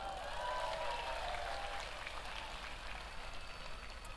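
Audience applause at an outdoor community anniversary gathering, a steady wash of clapping from a crowd heard at moderate distance, slowly fading, with a faint voice briefly over it.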